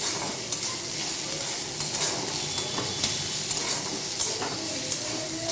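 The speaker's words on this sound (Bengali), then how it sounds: "পেঁয়াজটা হালকা একটু নেড়ে নেব এইভাবে।" Onions frying in mustard oil in a kadai, stirred with light scraping taps over a steady close sizzle and hiss, no voices.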